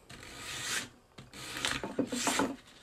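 Rasping strokes shape a taper on one end of a wooden wedge for closing the gap in a mortice and tenon joint, two long close passes separated by a brief pause.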